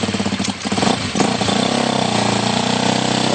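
A KTM motocross motorcycle, close and loud, blips unevenly at first, then holds a steady raised idle with a fast, even buzzing throb.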